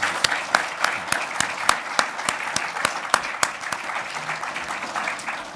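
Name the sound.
audience applause for panelists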